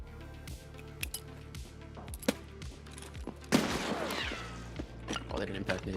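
A loud broadband explosion bursts out partway through a tense multiplayer PvP match, an impact grenade going off nearby amid scattered gunshots, then rumbling debris under ongoing team chatter.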